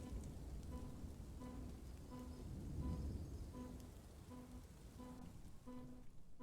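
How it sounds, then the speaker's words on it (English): Steady, faint rain hiss in the video game Dwarf Fortress, with a soft tone that repeats regularly beneath it and no voices. "Why does it sound like it's raining, but only underground?"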